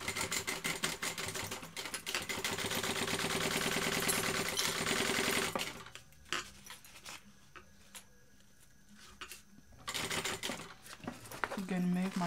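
A domestic sewing machine stitches a bag seam for about five seconds in a fast, steady mechanical run, then stops and only light handling noises remain.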